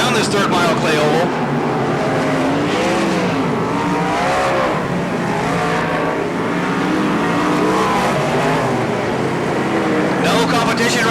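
USAC Western States sprint cars and TQ midgets roar around a third-mile clay oval at Bakersfield, engines loud and continuous with rising and falling revs as cars pass, under a race announcer's steady commentary.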